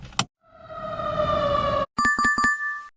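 After a brief click, a fire truck siren blares at close range for under two seconds, its pitch gliding slightly. It stops abruptly and a quick, bright tonal chime follows.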